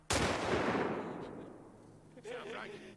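A single loud gunshot rings out in The Last of Us Part 2, a sharp close crack with a long decaying echo, followed by a shouting voice speaking French.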